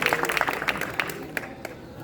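An audience at a lecture at JNU marking the anniversary of Mahatma Gandhi's death applauds in a burst of clapping that thins out and trails off into a few scattered claps.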